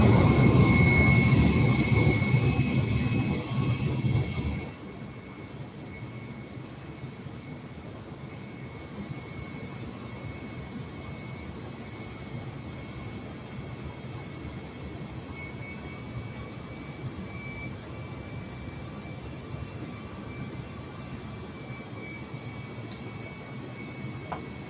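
An airliner in Microsoft Flight Simulator 2020 roars loudly during its takeoff run, then the noise drops to a steadier, quieter engine drone and cabin hum with faint tonal whines.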